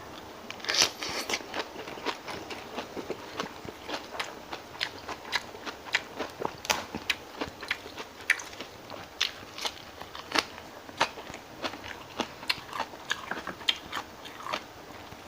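Someone eats miang pla tu, a Thai mackerel dish, with raw vegetables, chewing close to the mic in a steady run of quiet, crisp crunches and wet bites.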